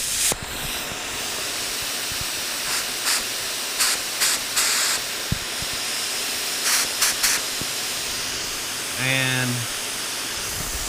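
A spray gun sprays clear coat onto an engine block from an LS 6.0 engine, giving soft hissing bursts in short repeated passes under a quiet background. A brief word is spoken.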